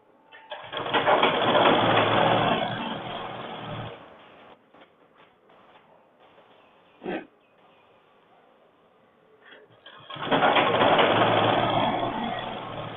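A sewing machine stitches a folded shirt sleeve in two loud whirring runs, separated by a quieter pause with a brief clack in the middle, heard close and alone.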